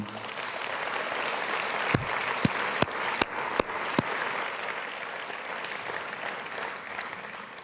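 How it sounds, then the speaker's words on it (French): Sustained applause from a congress audience for the organizing and security teams, broad and steady, with several sharp louder claps standing out near the middle. "Je pense que vous pouvez les applaudir."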